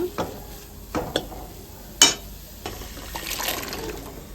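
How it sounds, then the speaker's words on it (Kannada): Boiled chickpeas are stirred into spiced oil and masala in a pan for chhole masala: a few sharp spoon scrapes and clicks over a faint, soft sizzle, close and fairly quiet. "ಇವಾಗ ಅದು ಬೇಯಿಸಿರೋ ಕಾಳು ಹಾಕ್ಕೊಳ್ಳೋಣ"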